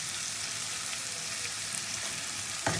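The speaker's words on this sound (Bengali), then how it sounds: "পেঁয়াজটাকে এবার খুব ভালো করে ভেজে নেবো।" Onions sizzle steadily in a hot pan as they fry, a dense even crackle with a faint stir or scrape near the end, close up and with no voices.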